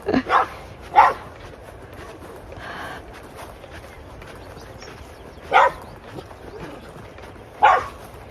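A dog on a mountain lane in Georgia barks in a handful of sharp, separated bursts, aggressive toward a pig, with quiet outdoor ambience between the barks.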